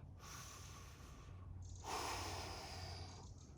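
Two long, deep breaths taken during an intense hip stretch, each a close airy inhale or exhale through the nose and mouth, heard alone without talk.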